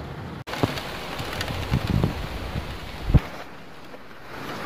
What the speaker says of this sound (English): Look at it just pounding off the pavement.